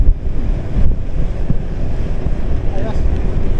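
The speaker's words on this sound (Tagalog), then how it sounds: "Lakas ng hangin." Strong wind blasting the microphone while riding bikes, a heavy continuous roaring rumble with buffeting gusts, loud and close throughout.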